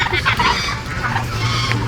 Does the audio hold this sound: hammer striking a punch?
no